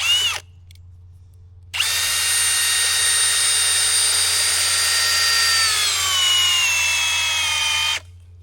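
Cordless power drill driving a foot-long bit, starting with a brief burst, then a long steady high-pitched whine that slows slightly before cutting off, close and loud.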